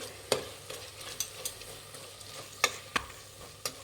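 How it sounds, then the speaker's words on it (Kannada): Masala and chilli powder fry in oil on a medium flame for a rice bath, a soft steady sizzle broken by several sharp clicks of a spoon stirring against the pan, close and with no talking. "ಇದೊಂದು ಎರಡು ನಿಮಿಷ ಮೀಡಿಯಮ್ ಫ್ಲೇಮಲ್ಲಿ ಇಟ್ಟು ಇದನ್ನು ಫ್ರೈ ಮಾಡಿ"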